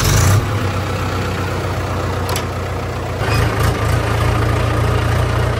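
A farm tractor engine idles close by with a loud, steady low-pitched drone and a slight lift in level about halfway through.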